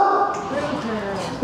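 Big dogs give loud yipping barks and whimpers up close, a short excited burst, with a voice talking over them.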